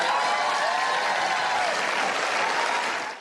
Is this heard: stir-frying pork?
no